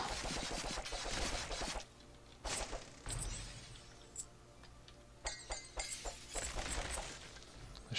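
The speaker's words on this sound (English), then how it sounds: "Shooting at me on the other side of the wall." Gunfire and impacts from Hammerwatch, a fantasy action game: bursts of sharp shots and clinking, glassy hits come in scattered clusters, some loud and some thinner, with brief gaps between.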